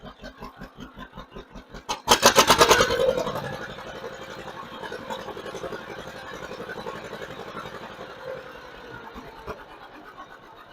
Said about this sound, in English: So I'm going to run the throttle range now.